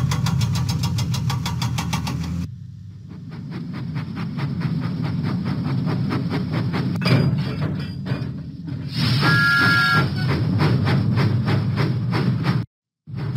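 Thomas the steam train from a Thomas and Friends video game chugs along the tracks in a steady, loud rhythm of puffs that shifts tone partway through and cuts out briefly near the end.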